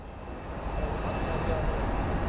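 Airliner jet at Phoenix Sky Harbor International Airport, a steady broadband engine roar heard from a distance, faint and constant throughout with no clear rise or fall.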